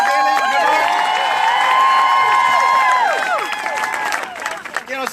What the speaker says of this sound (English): give Gaylene a round of applause for leading us today